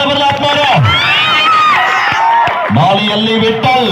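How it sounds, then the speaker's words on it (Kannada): A crowd at a village kabaddi match in Babaleshwar, Belagavi district team playing, whoops and cheers in a lively burst, with an announcer's voice speaking loudly over the noise. "ಒಂದ್ಸಲ ಜೋರ್ ಚಪ್ಪಾಳೆ ಬರಲಿ ಆತ್ಮಾರು"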